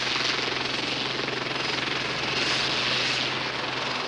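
A Westland Lynx navy helicopter powers up for takeoff from a ship's deck, its rotor and turbine giving a steady, rhythmic whine and thrum that holds fairly loud throughout, with no voices.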